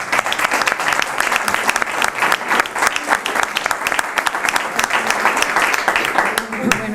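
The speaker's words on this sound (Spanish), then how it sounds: "un aplauso, ¿no?" Dense audience applause fills a book presentation at a library in Aznalcázar, many hands clapping continuously and fairly close for several seconds, with voices faintly underneath.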